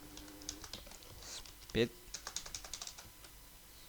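Keys clatter in quick irregular bursts on a computer keyboard while code is typed for a Godot Pong tutorial, fairly quiet, with someone speaking intermittently over the clicks.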